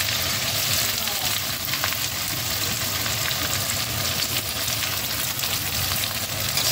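Onions fry in hot mustard oil, a loud, dense, continuous sizzle heard close up that stays steady and hissing throughout with no breaks.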